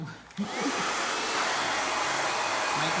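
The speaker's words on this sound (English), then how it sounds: "Mike Mikulski didn't like my hair dryer, so he bought me a new one." A hair dryer on warm blows in a steady, loud whoosh after a brief quiet start, with a faint whine running through the airflow.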